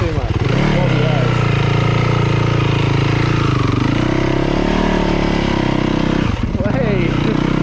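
A KTM dirt bike rides through a flooded, muddy forest track, its engine loud and close, droning and revving with pitch swings as the rear wheel works for grip.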